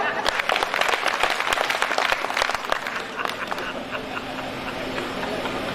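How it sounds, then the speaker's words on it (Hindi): Audience applause at a Hindi ghazal poetry recital, a dense patter of many hands that is strongest early and thins slightly toward the end, with a voice talking faintly underneath. "5-7 गजल के लिए ताली बजाओ।"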